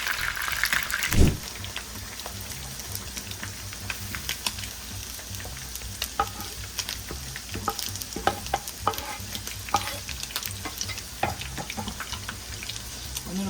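Beef intestines (gopchang) fry and spit in a home kitchen pan, a steady crackle dotted with sharp pops and stirring clatter, after a louder knock early on; no one talks.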